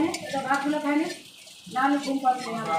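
Ghee sizzling and frying in a pan while being stirred during homemade paneer making, a steady crackling fry heard under continuous nearby talk.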